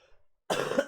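A single short cough from a person with a cold, close and fairly loud, bursting out abruptly after a near-silent moment during a Resident Evil 3: Nemesis game stream.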